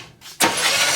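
A 454 V8 car engine, stored for 20 years, begins cranking with a sudden loud whirring after a quiet start. The steady churning noise then holds close up to the end.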